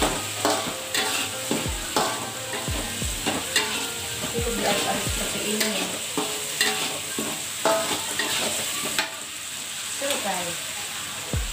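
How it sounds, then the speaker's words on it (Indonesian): Petai beans and sliced bird's eye chilies stir-fried in a pan, with a steady sizzle broken by repeated scraping and clattering strokes of a spatula. The sound is close and busy, and a voice says one brief word near the end. "baru kita masukkan petainya sama cabai yang rawit dan diiris"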